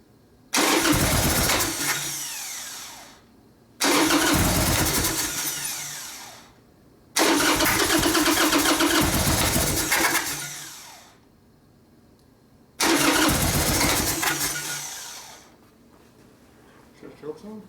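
A Harley Sportster motorcycle engine cranks over with the choke fully on in four long bursts of a few seconds each, separated by short pauses, loud and close.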